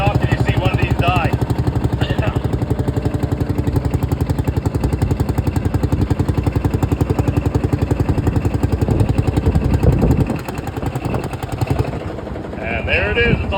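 A pulling tractor's engine roars at a tractor pull, a loud, steady, close drone with a pulsing mechanical rumble that holds for over ten seconds, then eases slightly near the end.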